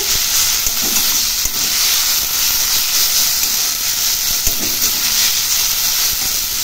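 Steady broadband hiss from a gas stove flame while radish greens finish cooking, continuous and fairly loud for the whole stretch, with a few faint clicks underneath and no talking.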